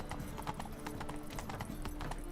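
Horse hooves clip-clopping at a steady running gait in The Witcher 3 video game, a continuous close rhythmic patter of hoof strikes over a low background hum, with a faint whinny hint.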